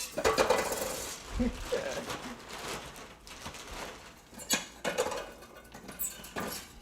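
Scattered crackling and clinking pops, some sharper than others, in an irregular burst as dry ice cracks against a container.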